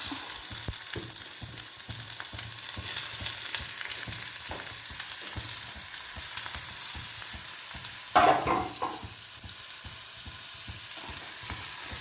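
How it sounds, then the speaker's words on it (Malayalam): Onions sizzle steadily in hot oil with mustard seeds and cumin for a vegetable stir-fry, a continuous close frying hiss with light crackles and a brief louder scrape of stirring near the end. "എണ്ണയൊഴിച്ചു, കടുകിട്ടു. ഇനി നമുക്ക് സവാള ഇട്ട് കൊടുക്കാം."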